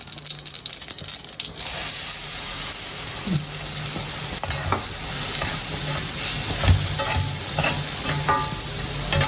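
Steamed lentils with salt go into a hot frying pan for a traditional South Indian lunch, giving a steady close sizzle with stirring and scraping throughout and no talk.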